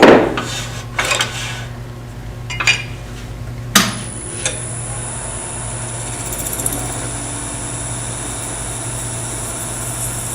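A small parting tool cutting on a metal lathe while making a wire burning tool: a steady machine hum with several sharp clanks and scrapes early on, then a sustained high whine as the cut proceeds, close and fairly loud, no speech.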